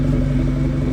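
Audi 2.0T engine exhaust note, a loud, steady droning hum heard up close with no talking over it.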